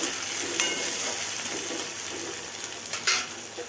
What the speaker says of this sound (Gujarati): આપણે ટામેટું એડ કરી લઈશું અને બરાબર મિક્સ કરી લેવાનું